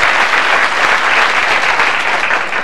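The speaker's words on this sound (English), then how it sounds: "Give a round of applause" A studio audience on an Australian Price is Right game show breaks into loud, dense, sustained applause, the clapping steady and unbroken for the whole stretch with no talk over it.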